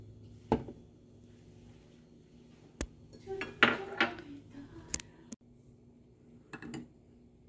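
Ice cubes clink and clatter into a container while a berry smoothie is made, a few sharp knocks scattered over the clip, with a cluster of rattling hits near the middle.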